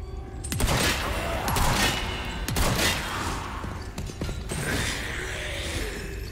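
Gunshots ring out in the video game Resident Evil 4, a string of sharp cracks and impacts mixed with mechanical clanks and whooshes, fairly loud and busy over a dense game soundtrack.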